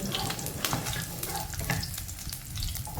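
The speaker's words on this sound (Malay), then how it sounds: "Panaskan sedikit minyak masak dalam kuali, kemudian tumis bawang putih dahulu." Garlic frying in hot cooking oil in a wok, a steady dense sizzle and crackle with occasional stirring scrapes, loud and close throughout with no voices.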